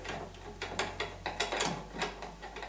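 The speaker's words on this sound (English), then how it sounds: "I'm going to undo the mounting screws down here" A screwdriver turns the mounting screws of a wall light switch, producing a quiet, close run of small rhythmic clicking and ratcheting scrapes.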